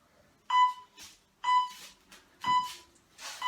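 A workout interval timer beeps four times, roughly a second apart, each sharp tone followed by a short burst of breathy noise in an otherwise quiet room.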